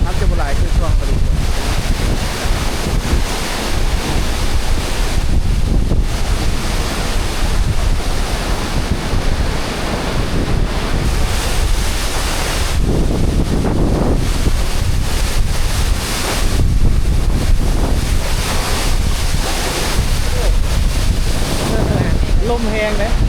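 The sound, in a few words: strong wind at a waterfall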